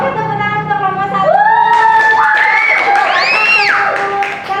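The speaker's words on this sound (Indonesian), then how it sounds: "Oke, tepuk tangan untuk kelompok 1." Classroom applause with cheering as a group of students is praised, loud and continuous crowd noise with excited children's voices rising over it for several seconds.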